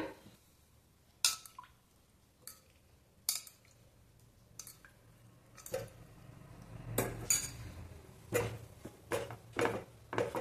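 A utensil scrapes and clinks in a pan as wheat flour roasts in ghee over a medium flame, with irregular soft stirring strokes growing busier toward the end and no talking.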